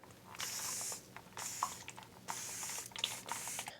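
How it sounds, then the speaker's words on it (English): A fine-mist spray bottle sprays three times in quick bursts, each a soft, close hiss lasting under a second, with small clicks between. "It sprays really fine mist."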